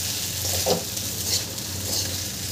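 Sabudana khichdi sizzles steadily in a pan over low-to-medium heat while it is stirred, with soft scraping strokes over the constant close frying hiss and no talk.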